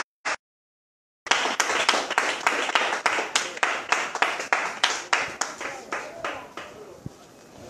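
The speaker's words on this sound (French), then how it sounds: "On acclame le Seigneur et on s'assoit." A church congregation breaks into sustained applause after a prayer, many hands clapping loudly and steadily in irregular bursts for several seconds, preceded by a brief short sound and a moment of silence.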